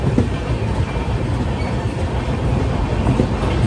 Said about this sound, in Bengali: তো আমাদের ট্রেন ছেড়ে দিয়েছে